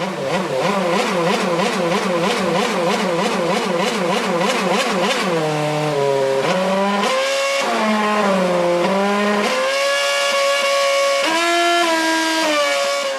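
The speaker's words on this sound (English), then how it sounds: "Making noises with the engine." A car engine is revved in rapid bursts to play a tune. Quick rhythmic pulses give way to held, stepped pitches of rising and falling revs, loud and close with no talking.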